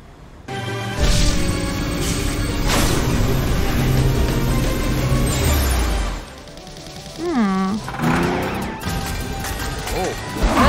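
Two toy trucks collide with a loud crash, followed by steady engine-like rumbling and a sliding whine. A cartoonish voice speaks briefly near the end.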